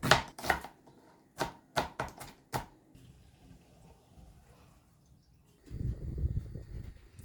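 A knife chopping food on a chopping board, with about eight crisp close knocks in quick clusters, then a quiet stretch and a soft rustling handling noise, no talk.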